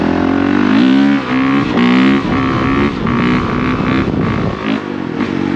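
A Honda CRF450RX dirt bike is ridden on trails, its engine close and loud, revving up and down in repeated surges with some rattling.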